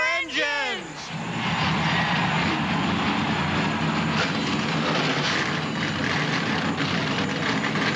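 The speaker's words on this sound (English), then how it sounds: "Gentlemen, start your engines." Engines of NASCAR stock cars fire up on the starting grid at the 1995 Napa 500 in Atlanta, a loud sustained roar building within the first second and holding steady, with a brief rising whine at the very start.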